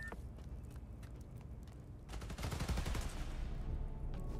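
Gunfire erupts in the Spider-Man Miles Morales video game, starting as scattered shots and building after two seconds into a dense, loud burst of rapid automatic fire.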